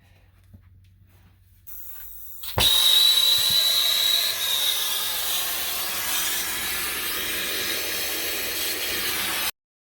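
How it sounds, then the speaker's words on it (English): Water boiling inside a leaking water heater under repair, a sudden onset of loud steady hissing and bubbling after a short quiet stretch, continuing evenly at close range until it cuts off abruptly. "So you guys can hear the water that's boiling from down here."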